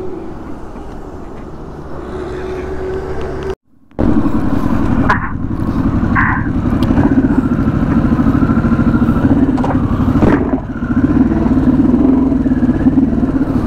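A motorcycle rides along a road in Malolos, Bulacan, its mid-pitched engine droning steadily and close, with a brief dropout and some clattering traffic around it.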